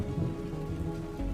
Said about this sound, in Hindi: तभी अचानक बारिश शुरू हो जाती है।